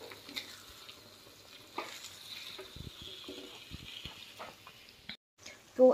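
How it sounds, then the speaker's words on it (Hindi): Masala frying in a pan for a paneer curry, a low steady sizzle with intermittent stirring scrapes, close by in a home kitchen, briefly cutting out near the end. "यहाँ पे मसाला फ्राई हो रहा है पनीर की सब्ज़ी के लिए"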